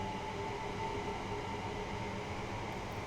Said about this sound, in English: Let's just wait for this 375 to shove off.